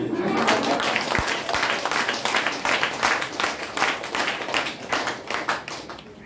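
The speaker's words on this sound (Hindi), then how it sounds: "ताली मार रही।" Audience clapping at a motivational talk, a dense steady patter of many hands filling the whole stretch, loud and continuous with a single sharp thump early on and no talk over it.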